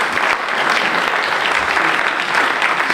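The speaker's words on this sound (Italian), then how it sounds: "io direi di fare un grande applauso" Audience applause at an Italian award ceremony, a full, lively wash of clapping from a large crowd, near and sustained throughout at a strong, even level.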